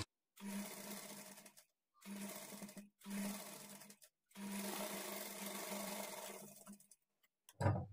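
A sewing machine stitches blouse lining fabric at a quarter-inch margin in four steady, close runs of rapid whirring separated by short pauses, finishing with a soft knock.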